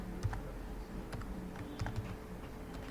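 Keys clatter steadily on a computer keyboard as ABAP code is typed in an SAP editing screen, a quiet run of uneven clicks over faint background hum with no talking.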